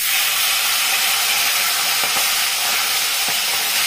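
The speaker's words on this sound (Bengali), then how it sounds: "এখন এই তেলেই আমি চিংড়ি মাছটাকে ভেজে নেব" 250 g of prawns sizzle in hot oil, the same oil just used for frying potatoes, with a steady, dense hiss and crackle that stays loud and even throughout, with no voices.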